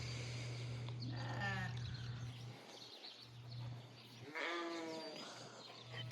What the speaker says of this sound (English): all the sheep are starting to come towards me